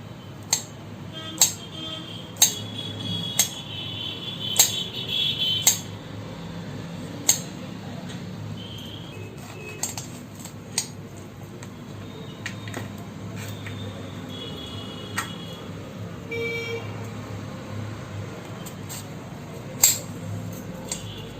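A knife finely chops banana blossom on a board, giving sharp, fairly regular taps that are close and distinct over a low background hum, with occasional softer scraping between cuts. No voices are heard.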